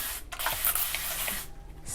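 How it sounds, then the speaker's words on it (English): A spray bottle mists hair in a few quick bursts of bright hiss, close to the microphone, with short gaps between sprays and a final burst near the end. "spray bottle."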